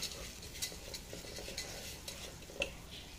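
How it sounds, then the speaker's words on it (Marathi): Dry fruits and rice stirred in ghee in a pan for sweet coconut rice, a faint sizzle with light scraping and an occasional utensil tap, quiet and close. "तुपात असे छान ड्रायफ्रूट परतले जाते"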